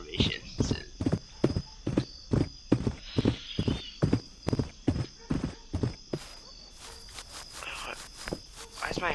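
In the western video game Westbound, a horse's hooves clip-clop in a steady, even rhythm for several seconds, crisp and close, with insect chirps and a high tone in the background.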